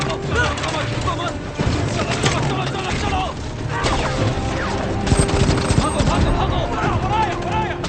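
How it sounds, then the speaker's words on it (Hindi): Rapid bursts of gunfire crackle through a noisy, chaotic scene, with sharp shots repeating over a constant rumble. "हम पर गोलियां चल रही हैं।"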